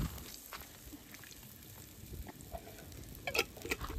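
Hot oil crackles and sizzles softly as dried red chilies, garlic, cumin and mustard seeds are tempered for a tamarind fish curry, with scattered pops and a few louder spits near the end, close and without talk.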